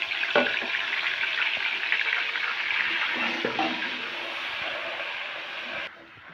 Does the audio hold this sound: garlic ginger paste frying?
yes